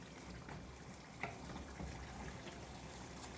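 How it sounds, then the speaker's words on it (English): Roasted turkey masala sauce simmers uncovered in a pan over medium-high heat, a faint, steady soft bubbling and popping that runs continuously throughout. "See, it's bubbling away"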